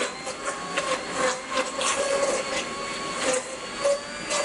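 A blender purees vegan bechamel sauce in a kitchen, a steady motor whir with a tonal hum and slight pulsing surges that runs the whole time, fairly close and without speech.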